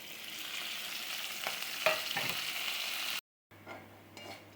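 Garlic, shallots and curry leaves sizzle in hot oil in a pan, a steady close frying hiss with a few stirring scrapes, then a brief silence before quieter sizzling resumes.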